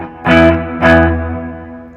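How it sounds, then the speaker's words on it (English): Two strummed electric guitar chords on the neck pickup with the volume up and plenty of reverb, each ringing out and decaying slowly, played from a song. "I'm using my neck pickup for all of these. Got my volume up, plenty of reverb"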